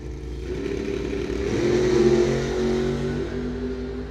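Drag racing cars launching side by side in a Quick 8 final at Coles County Dragway, a sustained loud engine roar that swells into a rising rev near the middle and holds, no voices.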